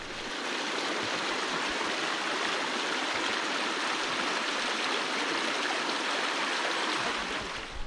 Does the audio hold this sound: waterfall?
yes